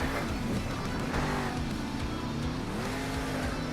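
The Monster Mutt monster truck engine in Monster Jam Steel Titans 2 drones in a steady, loud roar, with pitch rising and falling as the throttle changes and no break in the sound. A commentator's voice is faint or absent.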